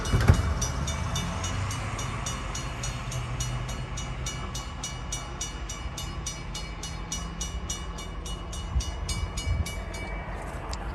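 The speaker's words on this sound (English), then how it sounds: "Two trains passing in Glencoe." Two trains pass at a level crossing in Glencoe, a steady rumble of rolling cars beneath a rapid, regular ding of crossing bells that runs almost the whole time, with a short horn burst near the start.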